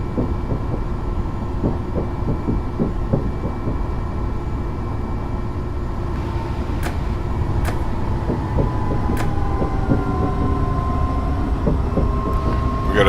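A train rolls steadily in Train Simulator 2015, with a continuous loud rumble and rhythmic clatter of wheels on track, a faint high whine, and a few sharp metallic clicks partway through.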